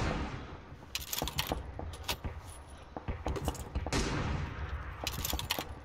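Gunfire from an M24 sniper rifle and other weapons in an online shooter game crackles in sharp bursts and scattered single cracks, fairly quiet and mixed with faint clattering, with no talk over it.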